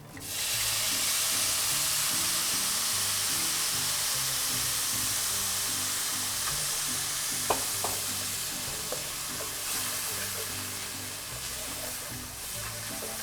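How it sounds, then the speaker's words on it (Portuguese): White wine poured into rice frying in a pan for a chicken risotto, giving a steady, close, loud sizzle with occasional small pops and crackles throughout, no voices. "A gente vai adicionar aqui o vinho branco."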